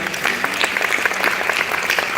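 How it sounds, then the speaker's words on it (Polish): A live stage show crowd gives loud, continuous applause as a volunteer named Natalia is invited up, many hands clapping together in a short, dense burst. "Dajcie ogromne brawa dla Natalii."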